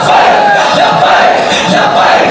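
Rally crowd chanting a slogan in unison, a loud, dense mass of voices filling the space with swelling shouted cries, close and continuous with no quiet gaps.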